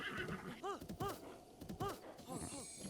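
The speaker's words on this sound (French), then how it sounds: "Petit cheval." A horse in the video game The Legend of Zelda: Breath of the Wild whinnies several times in quick bursts over soft hoofbeats, fairly close and moderately loud.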